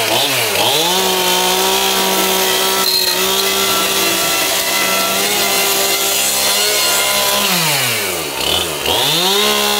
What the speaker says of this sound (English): I did my chainsaw work.